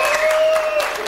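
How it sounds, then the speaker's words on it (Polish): Audience applause at a wedding band contest results announcement, a steady wash of clapping from a crowd holding at even loudness throughout, with a sustained tone running beneath it. "Drodzy Państwo, brawa dla kierownika."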